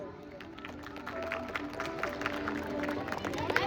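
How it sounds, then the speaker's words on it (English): A school audience at a quiz competition claps in scattered, uneven bursts for the third-place team, the applause moderately close and mixed with crowd chatter and talking. "Clap for them."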